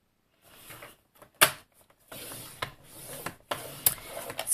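Paper creased with a folding blade while building a flap box, heard as soft rubbing and rasping scrapes with a few sharper taps, close and quiet, in short bursts separated by pauses.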